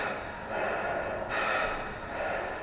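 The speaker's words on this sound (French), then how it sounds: "Une respiration d'abord lente, puis de plus en plus précipitée, presque angoissante." The artist's breathing plays in an art installation, moving from slow breaths to more hurried ones, with airy rushes of inhale and exhale rising and falling, alone and fairly close.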